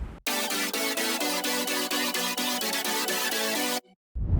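Melodic bass house synth chords layered with rising up-sounds play in steady rhythmic sidechain-pumped stabs, bright and dense, for several seconds before cutting off briefly.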